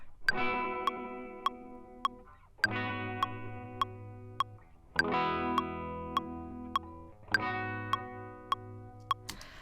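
Four repeated distorted guitar notes processed with Ableton Live warping, each swelling and decaying with a warped, wobbling pitch vibrato and glitchy granular texture, playing alone without any voices.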